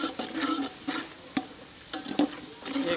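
Whole spices for pulao, including star anise, black cardamom, cumin, cloves, cinnamon and bay leaf, fried in oil: soft sizzling with intermittent stirring scrapes and clinks, close and fairly quiet.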